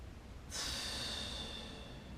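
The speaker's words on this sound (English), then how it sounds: "Inhale deeply." One deep inhale through the nose comes from a person lying down during a beginner core exercise, a single soft, airy, close breath rising after half a second of quiet and trailing off.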